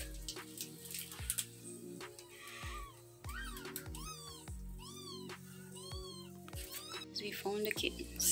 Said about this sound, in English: We found the kittens in the unfinished house, as cats often like to do.